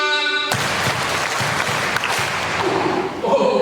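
A lecture audience at an Islamic talk on prayer claps in unison on cue, a firm rhythmic run of five claps that follows a brief voice, loud and close throughout.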